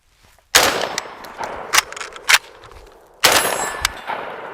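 Two sharp handgun shots ring out outdoors from the low ready position in a large open field below a mountain, each loud crack followed by a brief echo, with metallic clicks from the gun being handled in between.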